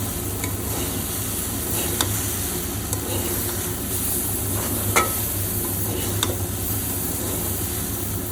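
Oats stirred together with tomatoes in a pan, a loud, dense sizzle with periodic scraping strokes of a spoon, steady and close throughout.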